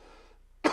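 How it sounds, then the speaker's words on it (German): A single short cough bursts out at the very end, loud and close, following a moment of fading background sound during a For Honor game session. "Ihr entschuldigt mich, ich muss mal husten."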